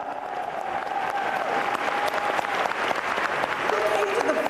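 A conference crowd at a political gathering claps and cheers, with dense clapping throughout, some whoops rising above it, and a background voice faintly mixed in.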